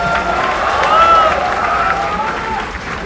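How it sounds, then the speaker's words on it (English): A crowd at a university teach-a-thon event claps and cheers loudly and steadily throughout, a dense wash of applause with no break. "a louder applause please"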